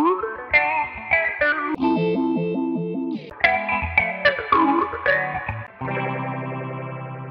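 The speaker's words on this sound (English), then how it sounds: "can give you that classic phasing sound" Electric guitar chords and riffs played through a swirling phaser effect, sweeping tone with a slightly distorted edge, ending on a sustained shimmering chord.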